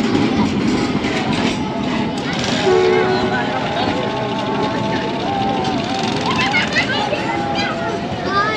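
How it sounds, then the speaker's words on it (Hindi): The 122 Down Ravi Express pulls away from Warburton railway station, a steady rumbling train sound with clattering wheels and wagons passing close by, continuous throughout with voices talking over it. "122 डाउन रावी एक्सप्रेस तो वारबर्टन रेलवे स्टेशन से आगे जा चुकी है"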